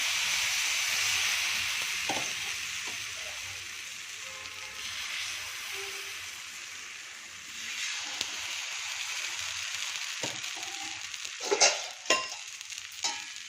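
Cucumber dosa batter sizzles and crackles steadily on a hot tawa greased with a little oil, a loud continuous hiss that slowly eases, with a few clinks near the end.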